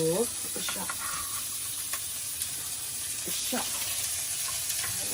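Pork hits a hot pan of cooking garlic and gives a steady, close sizzle with crackling and hiss throughout, and a voice is heard briefly near the start.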